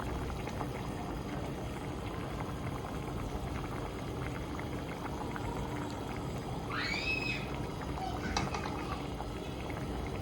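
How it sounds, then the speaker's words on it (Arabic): Tomato sauce at a steady boil while sardine fish balls are dropped in, a continuous soft bubbling and gurgling with faint clinks, fairly quiet and close. "لاصوص تكون تغلي ونديروا هذوك لي بولات يطيبوا مباشره"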